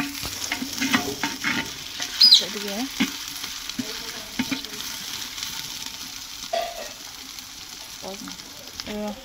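Ginger-garlic paste and onions frying in a clay pot for mutton curry: a soft sizzle broken by repeated scraping stirs of a spoon, close and fairly quiet.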